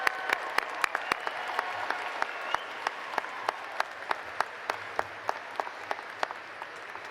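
Scattered applause at a college commencement ceremony, thin and distant with individual sharp claps standing out over a steady hiss of a large hall, lasting throughout.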